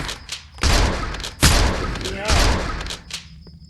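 Gunfire in the video game Specimen Zero: three heavy booming shots in a row, each followed by a rumbling decay, with a voice faintly underneath.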